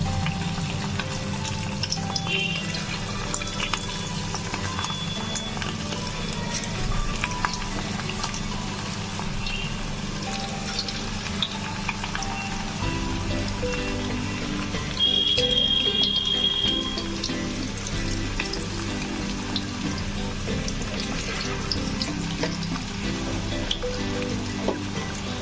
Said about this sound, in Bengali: তেলটা গরম হয়ে গেলেই আমরা একটা একটা করে পিস ছেড়ে এটাকে ভেজে নেব।